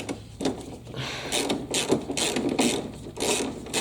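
A ratchet wrench with a 10mm socket loosens bolts on a Toro CCR 2000 snowblower, giving rapid bursts of clicking close up with brief pauses between strokes.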